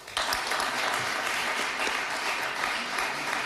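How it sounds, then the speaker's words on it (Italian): Studio applause bursts in almost at once and carries on as steady, dense clapping for the rest of the clip, with no talking over it. "Faccio un applauso."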